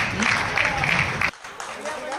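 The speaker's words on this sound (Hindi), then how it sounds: "तालियां बजाते रहो आप लोग" Audience applause at a Hindi comedy poetry gathering: dense clapping from a crowd, loud and steady, breaking off sharply midway before scattered claps and crowd noise return.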